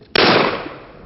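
A single loud, close gunshot from a Rossi Ranch Hand lever-action pistol, a sharp crack followed by a long ringing decay, with no talk.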